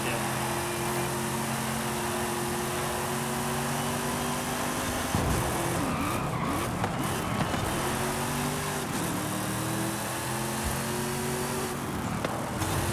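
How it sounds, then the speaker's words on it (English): A deep V8 engine of a 1995 Chevy Corvette ZR-1 in Forza Horizon 5 drones steadily with rising and falling revs and gear shifts, a continuous racing-game engine roar throughout. "I just love the sound of this V8 as well."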